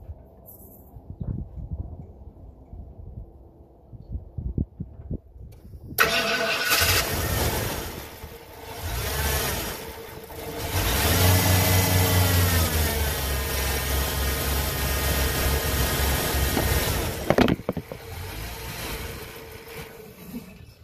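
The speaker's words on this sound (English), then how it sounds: "start it and see if it's running on all 8 cylinders" After a few seconds of quiet shuffling, a V8 car engine with a fuel-fouled spark plug fires up abruptly and settles into a steady, close idle that runs for over ten seconds before cutting off sharply.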